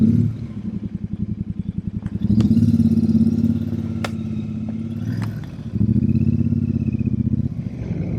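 A Royal Enfield motorcycle rides along a road, its mid-pitched engine thumping steadily and close with a brief lift in revs partway through, a light rattle over the steady drone.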